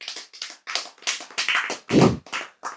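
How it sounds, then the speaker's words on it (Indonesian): A small gathering claps in scattered, uneven bursts at an Islamic study session on campus, a handful of separate hand claps close by with one heavier thump partway through. "Tepuk tangan dong"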